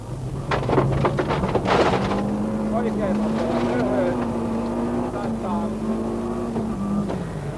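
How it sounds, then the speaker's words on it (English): A Mitsubishi Galant rally car roars along a muddy Welsh stage, captured on board: a loud, sustained engine drone that rises and falls through gear changes, with mud and gravel thumps and wind buffeting. "Our camera on board the Mitsubishi Galant of Timo Salonen gives some idea."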